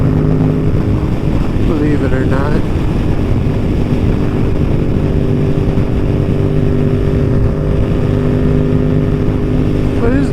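A Yamaha MT-07 motorcycle cruising on a windy Minnesota highway, its engine droning loud and steady under heavy rushing wind buffeting the microphone, with a brief spoken remark from the rider over the noise.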